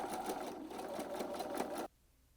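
A sewing machine runs steadily at regular stitch length along a button band seam, a close, continuous mechanical whir with a faint rhythmic pulse for nearly two seconds before it stops abruptly into quiet.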